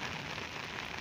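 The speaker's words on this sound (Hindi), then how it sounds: "बड़ी बारिश लगी हुई है जी" Heavy rain pours onto surfaces at Chattroh Dam in Azad Kashmir, a dense, continuous hiss of drops that is steady and fairly loud throughout the short moment.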